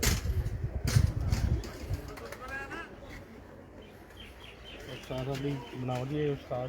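Pigeons at a rooftop loft on a farmhouse coo in soft repeated calls, with a burst of wing flapping early on and someone talking over the birds.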